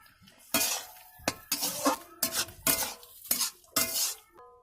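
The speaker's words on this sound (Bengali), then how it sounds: "এবারে লাভিয়ে দিচ্ছি।" A spoon stirs elephant foot yam curry with small fish in a pan, giving a series of sharp scraping and clinking strokes in an uneven rhythm, near and moderately loud, over a faint sizzle.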